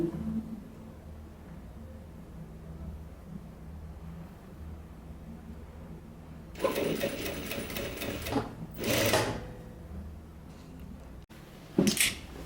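A sewing machine stitches the bottom line of a baby swimsuit in stretchy swimwear fabric, running in three short, close bursts after a quiet lull, the last one brief.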